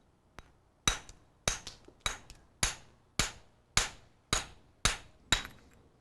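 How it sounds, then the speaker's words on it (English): A mason's hammer chips thin stone in about ten sharp, evenly spaced cracking strikes, close and crisp, each with a short ringing decay. "take a mason's hammer or a brick hammer and make your chips"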